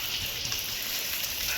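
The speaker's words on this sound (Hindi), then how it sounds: "ये मौसम की बारिश, ये बारिश का पानी" Rain falls steadily as an even, close hiss, with no other sound over it.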